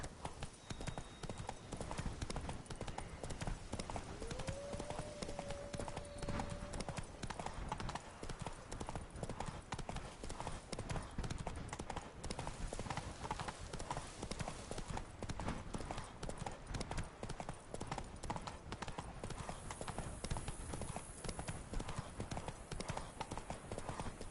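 Steady clip-clop of a galloping horse's hooves in the video game The Witcher 3, a continuous rapid rhythm running the whole stretch over a dense game soundscape, with a faint voice briefly under it.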